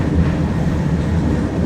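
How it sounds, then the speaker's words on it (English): Interior of the 1926 Melbourne-built tram number 466 running on the Auckland Dockline, a loud steady rumble and rattle of the moving car, with no talking. "the tram you're currently riding in is number 466. It was originally built in Melbourne, Australia in 1926"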